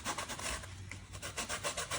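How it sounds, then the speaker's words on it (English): 80-grit sandpaper rasps across glued thigh-hook foam in an Apex Ringer kayak, a quick, steady rhythm of close scratchy back-and-forth strokes with no talking. "Now we're gonna start sanding it down. I've got some 80 grit sandpaper"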